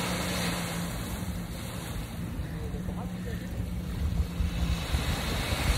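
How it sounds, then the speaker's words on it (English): Ocean waves washing in a continuous broadband rush, steady and fairly loud with a swelling surge toward the end, wind buffeting the microphone throughout. "Feel that water. Hopefully you can hear that water. The wave."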